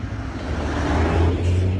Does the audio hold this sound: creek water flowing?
no